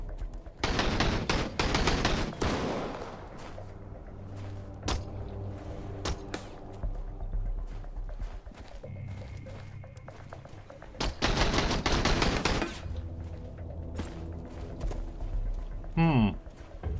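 Shotgun blasts in the video game Sunkenland come as loud booming bursts near the start and again later, separated by quieter game sounds, with a voice speaking between shots.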